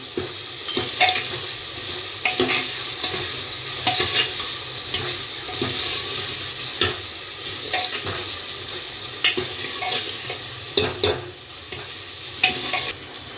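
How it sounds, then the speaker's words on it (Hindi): Pieces of suran (elephant foot yam) sizzle and crackle in a hot pan while a utensil scrapes and stirs them at irregular intervals, close and continuous. "देखिए अच्छे से भूनना इसको।"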